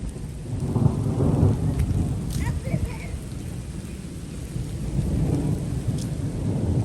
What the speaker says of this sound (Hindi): हल्की हो गई हुई थी बारिश लेकिन अब तेज़ हो गई है